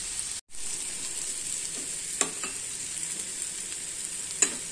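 Omelette mixture with green chillies and pepper frying in a pan, a steady close sizzle with a few soft clicks and scrapes from stirring, no talking.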